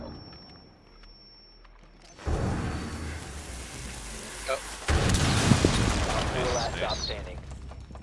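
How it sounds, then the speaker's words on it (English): A flashbang grenade goes off in a shooter video game as a sharp, loud burst. A second blast follows a few seconds later, while players talk excitedly over the action. "Flashbang away."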